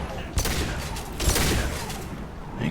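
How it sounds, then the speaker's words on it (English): Gunfire in Mass Effect 2 aimed at an enemy: a couple of sharp shots within a dense, rumbling stretch of combat noise, with talking underneath. "Or I can just shoot him in his arm."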